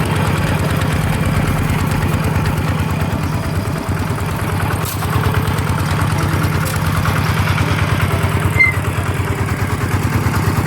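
A walking tractor's small engine chugs steadily at idle with a rapid, even putter, close by and continuous throughout, with no voices.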